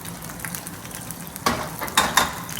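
A sudden hiss of sizzling as glaze is poured onto salmon in a hot pan, with a few bursts of crackling over a low kitchen background.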